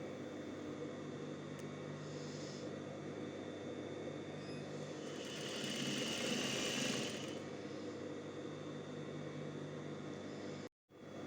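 A sewing machine hums steadily while stitching a trouser waistband during an elastic replacement repair, a constant quiet whir with a brief louder stretch midway and no talking.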